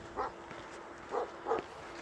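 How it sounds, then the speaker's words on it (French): Dogs bark in short, faint bursts at a distance on a street in Athens, three separate yaps spread across a steady background hum. "je me fais poursuivre par des chiens tout le temps, vous les entendez?"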